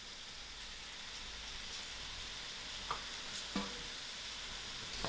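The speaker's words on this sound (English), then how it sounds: "I will lower my heat and allow this to cook till the juices of the mushroom is dry" Mushrooms frying in a pan over lowered heat, a continuous dense sizzle with a few faint pops and spatters, steady and close, with no talk.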